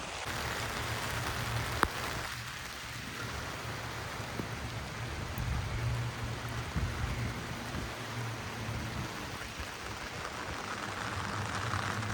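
Steady rain pours outdoors during a wet stretch of travel before reaching Corbyn's Cove beach, a dense, even hiss of falling water that runs unbroken and fairly close throughout, with no voices.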